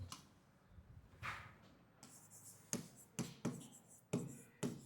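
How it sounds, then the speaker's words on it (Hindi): A teacher writing on a board in a classroom, quiet at first, then a series of short, crisp strokes and taps at irregular intervals, close and fairly soft. "मैं इधर लिख देता हूं"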